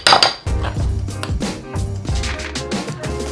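A spoon mixing a pinch of cinnamon into ricotta in a bowl, with repeated clinks and scrapes of metal against the dish in an uneven rhythm, close and fairly loud, with no talking.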